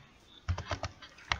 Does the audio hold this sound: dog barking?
no